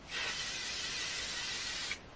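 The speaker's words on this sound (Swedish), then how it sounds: "Jag ska ta den här misten nu. Spraya bara på ena handen." Face mist spritzed onto one hand gives a single steady, close hiss of fine spray lasting nearly two seconds, then stops abruptly, with no talk.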